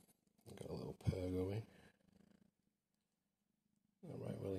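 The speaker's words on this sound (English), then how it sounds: "Got a little purr" A nervous five-month-old cat, blind in one eye, purrs with a soft, low, steady rumble in a quiet gap between bursts of close talking.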